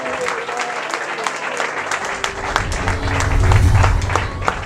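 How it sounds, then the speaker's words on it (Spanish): A church congregation applauds and cheers during a worship service, a dense wash of clapping with shouting voices mixed in that swells louder toward the end. "mucho de aplausos, aplausos y voces de júbilo"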